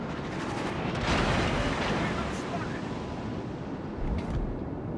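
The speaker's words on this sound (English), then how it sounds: "Fire on the enemy warship." Naval gunfire from warships in World of Warships: Legends, a dense, rumbling roar of heavy shots and sea noise that stays loud throughout, with a narrator talking over the battle.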